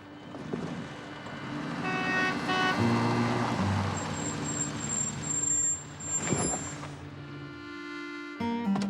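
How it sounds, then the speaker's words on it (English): A garbage truck in a small coastal town rumbles up and stops, with a heavy engine drone, a hiss like an air brake and clanking under steady traffic noise, close and fairly loud. "If you need a ride, Cody, I got a new lilac air freshener in my garbage truck."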